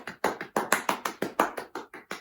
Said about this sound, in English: So you got to give yourselves a round of applause.